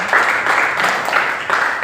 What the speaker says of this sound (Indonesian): Oke, tepuk tangan untuk Gilbert dan teman-teman.